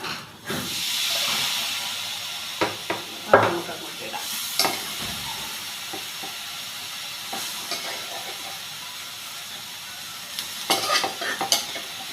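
Stir-frying green beans for thoran in a pan: a steady hissing sizzle broken by scraping, clattering strokes of a spatula against the metal, close up with no talking.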